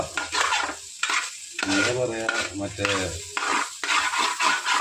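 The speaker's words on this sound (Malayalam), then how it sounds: "ഇനി ഒന്ന് മിക്സ് ചെയ്തോട്ടെ കേട്ടോ." Fried rice made with plain rice and finished with a little ghee is stirred in a pan, giving scraping, rustling strokes under a light sizzle, while a person talks over it close by.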